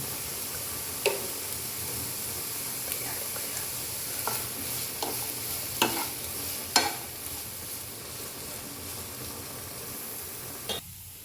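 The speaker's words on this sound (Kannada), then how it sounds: "ಇದನ್ನು ಚೆನ್ನಾಗಿ ಮಿಕ್ಸ್ ಮಾಡ್ಕೊಂಡು ಮಗ್ಗಿಸ್ಕೊಂಡ್ಬಿಡೋಣ." Carrot and mixed vegetables sautéing in a pan, a constant soft sizzle with several sharp spoon scrapes and clinks against the pan at irregular intervals, close by and with no talking.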